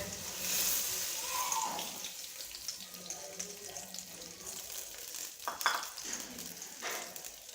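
Ghee poured into a hot kadhai on a lit flame for matar keema, giving a soft liquid pour followed by a light, steady sizzle, close and moderately loud.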